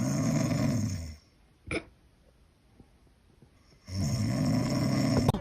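Person snoring: two long, loud, rasping inhalation snores with a quieter breathy gap between them, close and clear.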